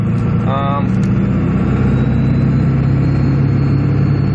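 A Ford 7.3 Powerstroke diesel truck engine fitted with an aFe hot-side intercooler pipe drones steadily on a test drive, a continuous low rumble that runs throughout, with a brief tonal whine early on.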